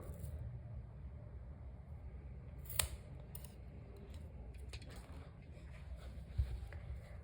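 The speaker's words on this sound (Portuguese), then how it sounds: "Agora, vou cortar aqui o fio." Scissors cut crochet yarn in two brief close snips, one early and one near the end, over a low rumbling background with faint handling noise.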